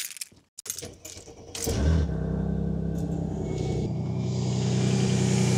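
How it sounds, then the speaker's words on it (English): A car engine cranks and catches on a force start from an ANCEL BS200 jump starter in cold weather, then settles into a steady, loud idle rumble after a couple of clicks and a brief pause. "Force start, after clicking force start, start the engine immediately."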